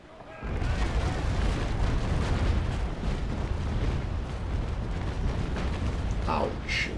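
A ship's cannon broadside from the naval game Naval Action roars as a dense, sustained rumble of overlapping booms. It begins abruptly and fills the whole stretch loudly.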